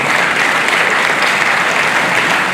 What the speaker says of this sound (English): Please let's applaud him while he comes.